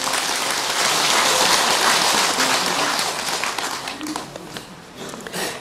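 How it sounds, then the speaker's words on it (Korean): Applause from a gathering at a Buddhist temple dharma talk, dense continuous clapping that stays strong for several seconds before thinning out and tapering, with a few scattered claps at the end. "한번 신청곡 할 테니까 박수 한번 쳐주세요."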